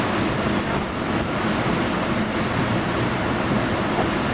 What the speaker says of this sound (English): you see the waves picking up big time in the bay